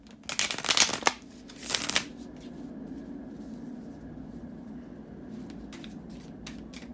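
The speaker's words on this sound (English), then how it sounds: "bear with me just a second, guys, to shuffle the tarot cards" Two quick bursts of tarot card shuffling ring out up close, followed by quieter shuffling taps and soft handling noises over a faint background hum.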